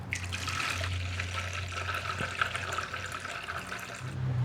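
Water being poured, 800 ml measured out for focaccia dough, runs as a steady continuous trickle for several seconds, close by with a faint low hum underneath.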